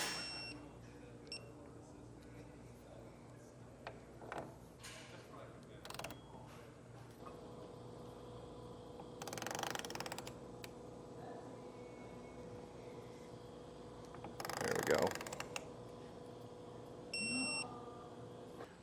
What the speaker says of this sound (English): take your torque wrench with your 1/2-inch socket and adjust it to the foot-pounds recommended